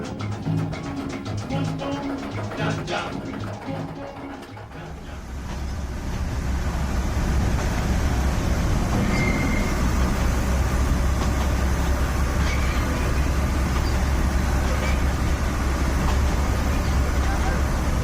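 Narrow gauge railcar riding along track at Central Rafael Freyre in eastern Cuba, a steady loud rumble and rattle of wheels that builds after a quieter opening and carries on continuously.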